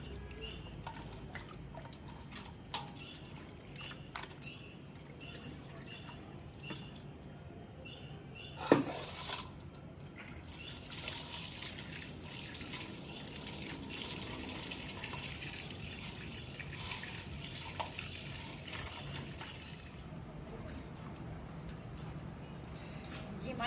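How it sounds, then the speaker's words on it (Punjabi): Meat is washed by hand with salt and water, running and splashing water sloshing steadily at moderate loudness while someone talks over it. "ਹੁਣ ਮੈਂ ਨਮਕ ਪਾ ਕੇ ਨਾ ਧੋਣ ਲੱਗੀ ਹਾਂ ਤਾਂ ਕਿ ਚੰਗੀ ਤਰ੍ਹਾਂ ਨਾ ਸਾਫ਼ ਹੋ ਜਾਵੇ"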